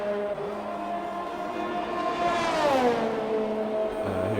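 Race cars in an F1 racing video game at the Azerbaijan Grand Prix, including a Red Bull and an AlphaTauri, roar loudly past the line, with engine pitch sweeping down as they go by and more cars following.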